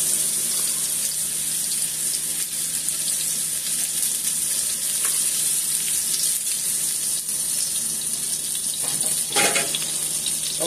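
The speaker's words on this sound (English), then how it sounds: "now that my grease is nice and hot, I'm just going to go ahead and add my salmon to this." Salmon frying in hot grease in a home kitchen, a steady close sizzle that holds evenly throughout with a few faint clinks and shifts near the end.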